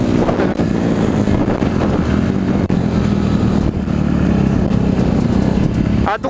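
A 250cc motorcycle ridden on a road outing, engine drone buried under steady, heavy wind buffeting across the whole stretch, loud and close with no break.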